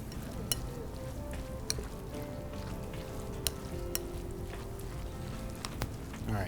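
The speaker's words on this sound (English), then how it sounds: "All right, that's all mixed together." A spoon stirs carrot raisin salad in a bowl, giving a continuous wet, sticky churning with scattered sharp clicks against the bowl.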